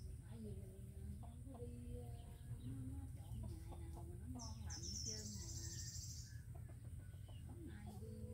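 Bantam chickens in an old longan orchard give repeated clucks and short calls, fairly faint, over a steady hum of insects and a low background drone.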